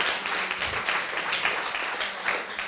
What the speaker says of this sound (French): Vous pouvez vous applaudir, vraiment, pour votre écoute active.